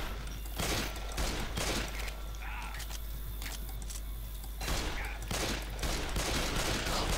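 Rapid bursts of gunfire from the video game Left 4 Dead 2 crackle in repeated clusters, loud and close, with a continuous low rumble underneath and some brief pauses between volleys.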